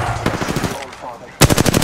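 Rapid automatic gunfire in Apex Legends, loud and close, in quick bursts that pause briefly before a sharper, louder volley near the end.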